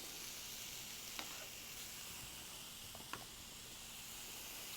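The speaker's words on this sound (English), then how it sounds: "we're going to throw in the rest of the vegetables" Vegetables for a chicken stir fry sizzle quietly and evenly in a pan, with a soft continuous hiss and two brief light clicks from stirring.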